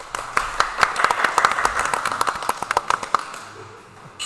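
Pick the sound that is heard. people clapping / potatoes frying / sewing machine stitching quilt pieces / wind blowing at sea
people clapping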